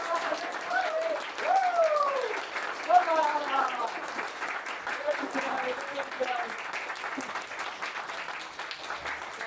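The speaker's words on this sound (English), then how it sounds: "we're going to clap like a maniac for 10 seconds" A room of attendees at a sales masterclass claps enthusiastically, a sustained wash of applause lasting the whole stretch, with whoops, cheers and shouted voices rising over it.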